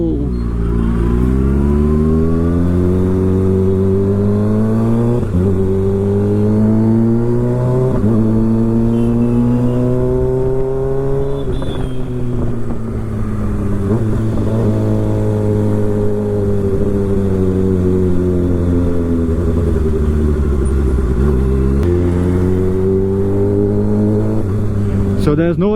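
A 2024 Kawasaki ZX6R fitted with an M4 GP19 full-system exhaust revs loudly and close, its engine note climbing and falling in repeated sweeps over about 26 seconds.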